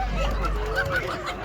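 Chickens and ducks at a busy poultry market in Jessore give a brief, close burst of fowl clucking and squawking with a few honk-like calls.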